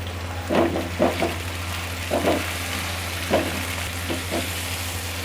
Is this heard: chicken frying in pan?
yes